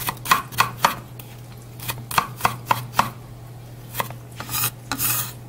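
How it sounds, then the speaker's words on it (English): Knife chopping fresh basil, chives and two garlic cloves on a cutting board: a string of crisp, close taps in uneven bursts, with a steady low hum running underneath and no talk. "to this I'm going to add some fresh basil, some chives, and 2 cloves of garlic. Okay. So we're just going to chop it up."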